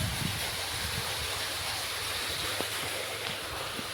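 Irrigation water rushes steadily into a channel in a groundnut field, a dense, continuous roar close to the microphone with no pauses.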